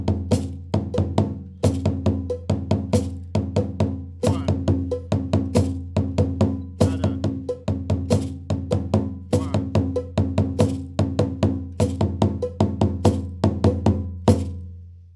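Dunun drum playing a three-pulse phrase against a four-pulse foot beat, a steady run of sharp, resonant, evenly spaced hits with deep low body, close and alone without talking.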